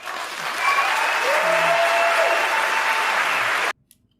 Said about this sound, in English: And why are they clapping now?